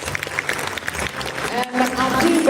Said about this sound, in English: please join me in giving them a big round of applause for putting up such a great performance